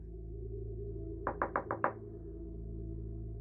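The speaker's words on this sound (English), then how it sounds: "Not a second later, the knocking started up again." Knocking on a hotel room door, a burst of five sharp, evenly spaced raps heard fairly close over a low steady room hum.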